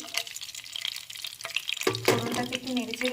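Whole spices are dropped into hot oil in a pan for cauliflower yogurt curry, and a sudden sizzle flares up partway through after some stirring and clinking.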